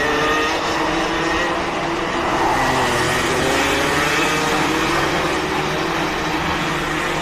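Senior Max karts racing around a circuit in a race final, a dense, continuous buzz of several two-stroke engines held at high revs throughout, loud and steady with no talk.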